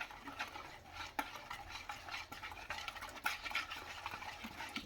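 Masala rava dosa batter with onion and coriander leaves being mixed in a bowl, a close wet stirring and sloshing with a spoon knocking the vessel now and then, steady and continuous without talk.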